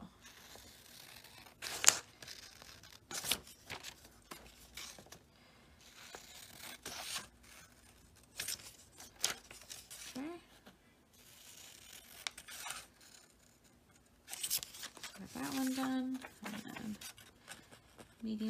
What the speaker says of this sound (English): you're gonna cut along the dotted lines